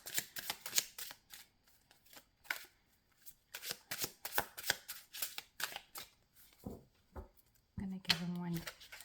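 Divine Feather Messenger oracle cards shuffled by hand in quick repeated bursts of crisp riffling and flapping, close and clear, ending with a short spoken word.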